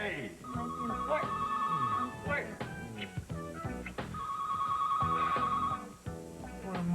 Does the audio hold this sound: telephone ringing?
yes